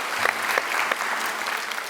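A studio audience breaks into brief, steady applause with a few sharper claps standing out, moderately loud and without talk.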